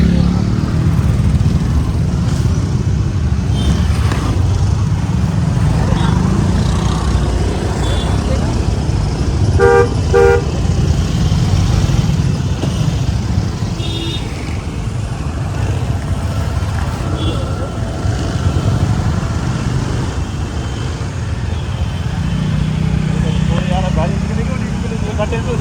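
Stalled traffic near Bhowali with engines rumbling, motorcycles passing and car horns tooting in short bursts, close by, under steady road noise and people talking.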